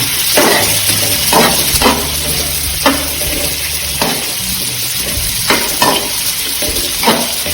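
Onion and curry leaves fry in a pan for grilled chicken masala, a steady loud sizzle broken by periodic scraping strokes of stirring, close up.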